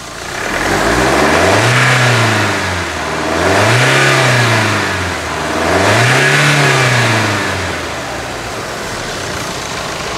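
The engine of a Chevrolet S10 pickup is revved three times in a row. Each loud, close surge rises in pitch and then falls back toward a steady idle.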